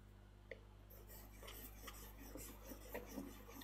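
A knife blade scrapes softly back and forth across a fine whetstone for a final polish. The strokes give a faint, gritty rasp in an uneven rhythm over a low steady background hum.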